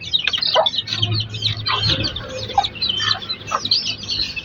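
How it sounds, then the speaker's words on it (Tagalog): A hen clucks repeatedly in short bursts amid chirping chicks and other poultry nearby, the calls close and fairly loud over a busy farmyard background. "Inahin."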